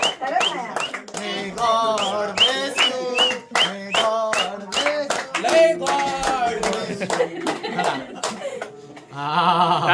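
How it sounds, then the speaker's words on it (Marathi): Several people clap their hands in quick, uneven bursts at a family outing by a river while cake is shared, with voices talking and laughing throughout and a louder flurry of claps at the end. "टाळ्या टाळ्या टाळ्या"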